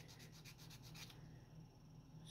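Sandpaper rubs back and forth on a small plastic model kit part in a steady run of soft, close scratchy strokes that go quieter and smoother toward the end, with no talking.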